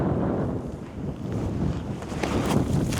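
Gusty wind on a disc golf course buffets the microphone with a steady roar that surges and eases, loud and close, with no other distinct sounds.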